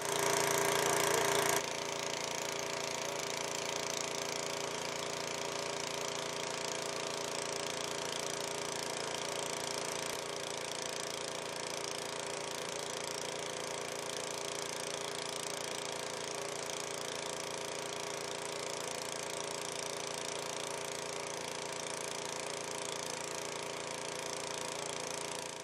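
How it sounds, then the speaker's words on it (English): A steady, loud mechanical drone of a tractor-drawn maple sap collection tank being pumped into a truck-mounted tank at a sugar house, holding at an unbroken level throughout with no talk. "The tractor-drawn collection tank is periodically pumped into a truck-mounted tank, which can then be hauled back to the sugar house."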